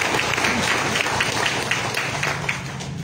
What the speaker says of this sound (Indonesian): Tepuk tangan untuk orang Papua Selatan.